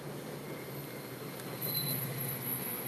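A Chicago L elevated train rumbles past with a steady roar and a thin wheel squeal, moderately loud and continuous, with no talking.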